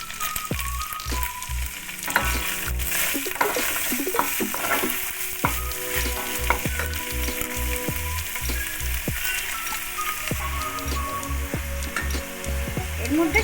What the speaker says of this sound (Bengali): এবার আমি বাঁধাকপিগুলো দিয়ে দিলাম।